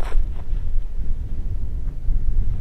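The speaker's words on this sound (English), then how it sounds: "I know it's a little bit windy out here" Wind buffets the microphone in a Utah canyon at Valley of the Gods, loud low gusty rumbling that surges and dips throughout, with no talking.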